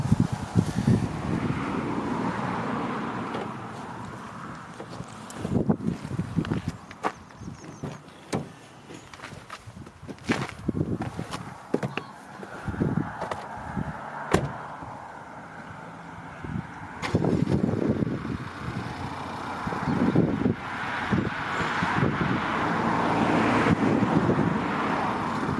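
Cold wind gusts across the microphone outdoors beside a Honda Civic saloon, rising and falling in rough bursts, with car door and window thumps scattered throughout.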